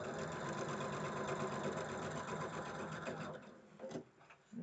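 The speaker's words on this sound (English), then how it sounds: "Now this gets sewn on here." Sewing machine stitching pieces of a quilt block, a steady close whir of rapid needle strokes running continuously before slowing and stopping near the end.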